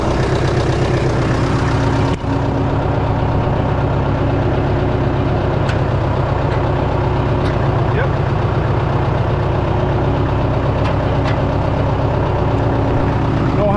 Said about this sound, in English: another running driving tractor